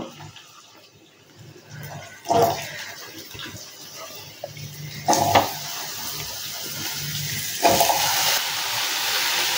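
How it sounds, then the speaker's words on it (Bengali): Potatoes tipped into a hot pan of oil tempered with whole spices and a bay leaf for a Rajasthani papad curry, giving a steady sizzle that surges in loud bursts as each batch lands, with no talking. "এবার এতে আলুগুলো দিয়ে দেব।"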